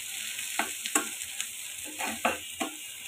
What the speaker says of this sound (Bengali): তো এটাকে দিয়ে আমি একটু ভালো করে নেড়ে নেই।